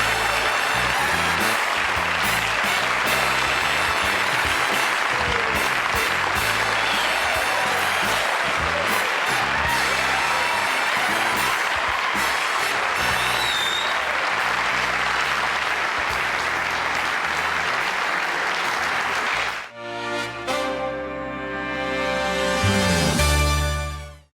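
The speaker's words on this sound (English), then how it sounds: "I'm humbled by that applause." Studio audience on a 1983 Johnny Carson Show taping breaks into loud, sustained applause that fills the room for about twenty seconds, then shifts abruptly to a quieter, music-like tail.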